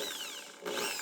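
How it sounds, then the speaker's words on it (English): A power drill spins a nail chucked into a wooden block, working as a makeshift lathe: a close, high whirring whine with a brief dip partway through before it revs back up, with no voices. "my drill is my lathe"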